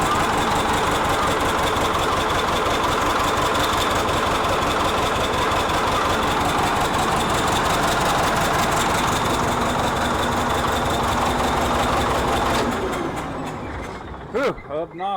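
A CAT D7E bulldozer engine idles with a misfire, a heavy, loud, rough diesel rumble with an uneven beat that runs steadily before winding down and stuttering at the end.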